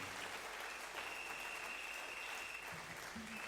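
A church congregation applauds in a steady, sustained wash of clapping that is fairly faint and distant, with a voice briefly audible near the end.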